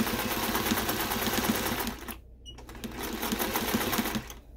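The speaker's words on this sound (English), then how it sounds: "here I am just stitching on some bias binding to make casing for the elastic at the wrist" Close, continuous whirr of a sewing machine stitching bias binding onto a bedsheet shirt's wrist, briefly pausing partway before running on steadily.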